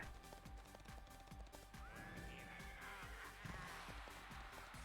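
In a Mario & Sonic Olympic equestrian event, a video game horse gives a whinny amid a steady run of galloping hoofbeats, with game music and effects layered underneath.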